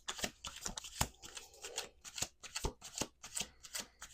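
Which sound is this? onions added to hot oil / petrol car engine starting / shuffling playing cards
shuffling playing cards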